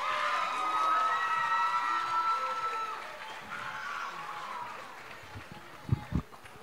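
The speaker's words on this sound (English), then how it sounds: "Let's give him a round of applause" Crowd cheering and applause at a school assembly, a broad steady wash of clapping with voices mixed in, then tapering off with a few closer sharp claps near the end.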